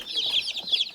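Chickens and small chicks on a village farm cluck and peep in quick, bright, overlapping calls, close by and fairly steady.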